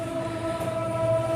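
A train rumbles along railway tracks outdoors, a steady, fairly loud rolling drone with a faint tonal whine on top, heard alone for a brief moment.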